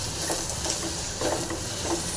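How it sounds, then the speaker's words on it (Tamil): Onion and garlic fry in a pan for a drumstick-leaf dish, giving a steady, fairly loud hiss and sizzle with faint crackles that keep on without a break and with no talking. "வெங்காயம் இந்த பூண்டுலாம் க்ளீனாக ஃப்ரை ஆகிருக்கு"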